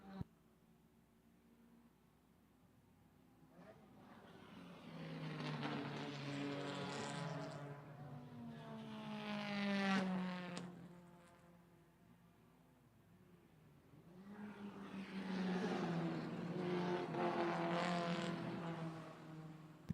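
Race cars on the track at Lime Rock Park, including an orange BMW and a small yellow Mini Cooper, engines rising and falling in pitch as they pass at a distance in two waves, fairly faint with steady background hiss.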